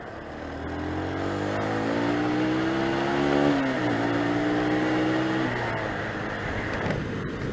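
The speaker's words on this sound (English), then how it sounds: "Wait for this car to go past and I'll overtake." A car sweeps past on the road, its engine note rising and falling as it draws close and moves away, heard over the steady drone of a motorcycle and wind.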